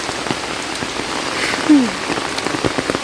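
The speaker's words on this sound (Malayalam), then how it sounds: "വെള്ളത്തോട് വെള്ളം അങ്ങനെ ഒരു മഴ ദിവസം ഉണ്ട്" Heavy rain pours down in a steady, dense hiss with scattered drop patters throughout. A single short chirp rises briefly near the middle; no one speaks.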